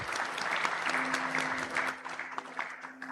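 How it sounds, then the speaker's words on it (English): Audience members clap for panelists at an insurance policyholders' silver jubilee programme, a brisk burst of applause that thins slightly toward the close, with a faint steady hum beneath. "a round of applause for them."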